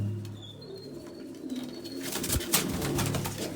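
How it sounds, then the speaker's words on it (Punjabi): A top-grade female pigeon coos in soft low murmurs, with a brief flutter of wings and faint chirps rising toward the end, close by and fairly quiet. "ਇੱਕ ਨੰਬਰ ਕਬੂਤਰੀ ਆ"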